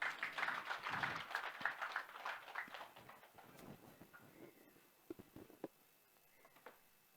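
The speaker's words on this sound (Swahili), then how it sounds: "Makofi ya DCC jameni." Applause for the DCC at a KOSAP stakeholder engagement and exhibition event in Kwale: a dense crowd clapping that starts loud and thins over a few seconds into scattered, fading claps.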